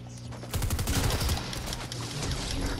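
Rapid bursts of video game gunfire crackle in a dense, loud volley through the first half, then continue as a steadier backdrop of shooting and game noise.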